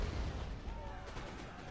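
Cannon artillery fires in a Napoleon: Total War online battle: a faint, rumbling boom at the start fades into low distant battlefield noise.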